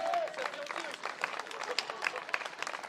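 Crowd clapping at a political rally, scattered and uneven claps at moderate distance, with voices heard over them.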